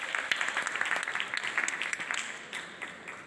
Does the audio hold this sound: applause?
yes